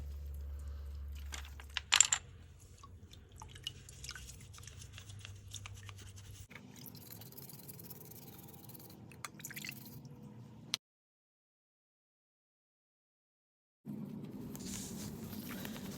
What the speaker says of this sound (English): I'm going to clean the loose dirt off with just water and a quick scrub